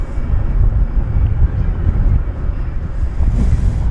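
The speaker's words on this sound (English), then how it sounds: "It's a 787-800 touching down after a 3-hour and 3-minute flight" A Boeing 787 airliner touching down on the runway after a three-hour flight, heard as a loud, steady low roar of jet engines mixed with heavy wind buffeting the microphone.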